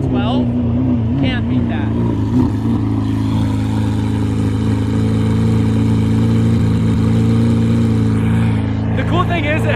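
A naturally aspirated V12 engine drones steadily and loudly, with a brief rise in revs near the end, while voices talk over it.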